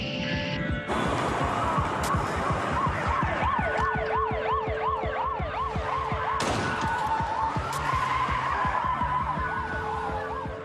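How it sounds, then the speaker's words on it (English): A small white Ford Festiva speeds at over 100 miles an hour in a police pursuit, its tyres screeching in long skids while police sirens wail and rise nearby. The sound is loud and continuous. "He pushed that little car to over 100 miles an hour before troopers ran him off the road"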